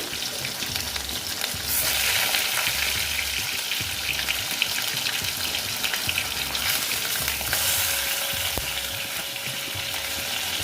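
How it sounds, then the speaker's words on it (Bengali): Rui fish pieces fry in hot oil, giving a loud, dense, continuous spattering sizzle with occasional light clinks and no voices. "মাছ আমার ছটা আছে তো তিনটে করে আমি ভেজে নিচ্ছি"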